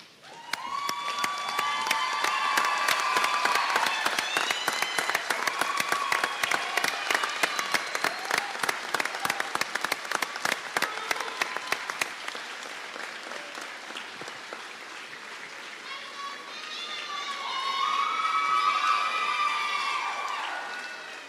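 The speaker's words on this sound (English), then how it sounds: "let's all stand and give each of the graduates a round of applause" A standing audience at a practical nursing graduation ceremony gives a long round of applause. The clapping is loud and sustained, with scattered cheers and shouts, and it eases and then swells again near the end.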